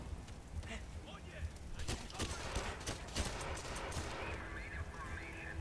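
Gunfire from a big gun in the video game 007 Legends: a short cluster of rapid shots in the middle, fairly faint under a low, busy background.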